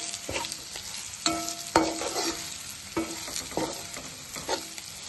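Chicken masala fry in a pan, loud sizzling broken by repeated scrapes and clanks of a spoon stirring the spiced chicken, with no voices.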